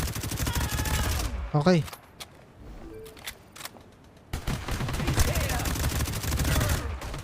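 Gunfire in the GTA V Online video game crackles in short bursts between stretches of someone talking, with a quieter gap in the middle where only faint game sounds remain.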